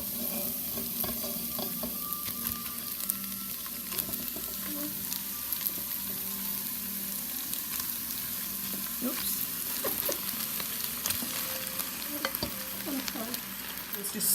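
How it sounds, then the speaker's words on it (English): Sliced sweet potatoes, onions and fresh ginger sizzle steadily in a pan while being stirred, a close, continuous frying hiss with scraping strokes throughout. "Just stir your sweet potatoes"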